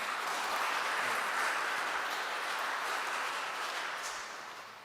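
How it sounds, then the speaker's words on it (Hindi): A church congregation claps in welcome for Father Fayaz at a Pakistani community Christmas celebration, a soft, distant wash of steady applause that tapers off toward the end. "हम ज़ोरदार तालियों में फादर फ़याज़ को वेलकम कहते हैं"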